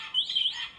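A single bird chirps briefly nearby, a short, high, rising and falling tweet heard clearly over quiet background.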